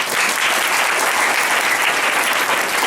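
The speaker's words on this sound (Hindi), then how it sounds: "जोरदार ताली से धन्यवाद।" A crowd claps steadily and densely, a loud sustained round of applause with no pauses.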